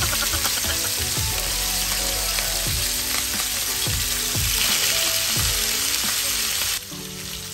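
Salmon pan-fries in hot olive oil with a loud, steady sizzle and crackle, close by and continuous, easing slightly near the end.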